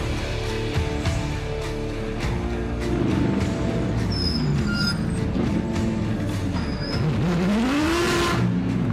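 GT race cars circulating at Phillip Island during an SRO GT Festival race, loud continuous engine roar with shifting pitch as cars pass and rev, a rising whine near the end, no talk.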